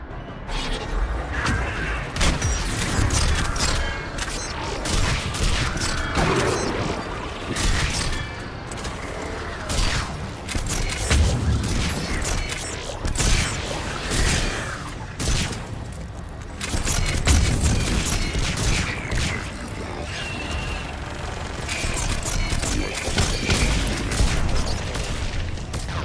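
Missile strikes and gunfire in a Mass Effect 3 battle give a long, continuous stretch of loud booms, rapid shots and mechanical clatter, with explosions swelling and fading throughout.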